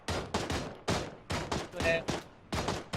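Rapid bursts of gunfire in the PUBG video game on PS4 crack out in a fast, repeated rhythm of loud, close shots with brief gaps, a voice faintly underneath.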